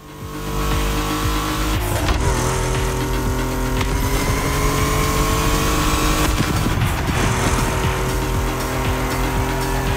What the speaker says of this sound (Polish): Ale dźwięk tej Porsche'y fajny.